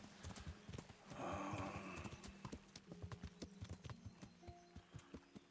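Horse hooves clip-clop in a steady walking rhythm in the video game Kingdom Come: Deliverance, close and clear, with a brief rushing swell early on and no talking.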